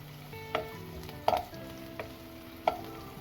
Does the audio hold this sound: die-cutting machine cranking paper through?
no